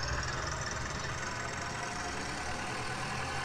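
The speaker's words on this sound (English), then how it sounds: "The tractor's everywhere!" A tractor engine in a mowing video game drones steadily at medium loudness, a continuous rumbling idle-like hum with no breaks across the whole stretch.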